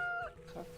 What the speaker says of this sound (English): I hear all these chickens, but I don't see any.